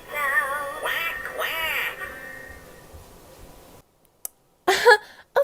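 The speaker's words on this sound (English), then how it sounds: "It's a yellow duck making ducky sound" Yellow toy duck on a musical Ninky Nonk bubble-blowing train toy giving bright electronic quacks, several in a row up close, then a pause and a few short clicks.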